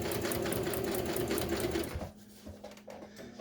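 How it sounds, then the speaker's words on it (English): A sewing machine runs at a fast, steady pace as it stitches a seat bottom cover for a 1966 GMC. After about two seconds the motor stops and quiet handling sounds follow. "So we'll just do a couple stitches, and then we're going to press that down, and we're going to go backwards."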